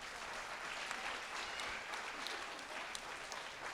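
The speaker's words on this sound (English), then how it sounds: "I hope you'll give him a round of applause." An audience gives a round of applause at an event, many hands clapping together in a thick, steady roar that stays at an even level throughout.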